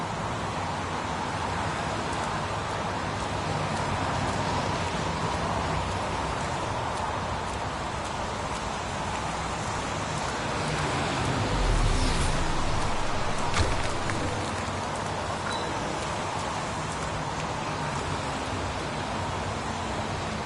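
Steady, dense rain hisses all around in the video game Heavy Rain, with a continuous wash of falling water and a few faint clicks and thumps, with no talk.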